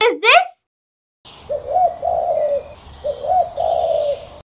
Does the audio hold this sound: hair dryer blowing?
no